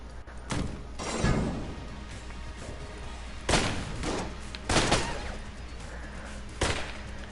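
M1 rifle shots in the Enter the Gungeon video game, four separate loud cracks spaced a second or more apart, each with a short decaying tail, alone without talk.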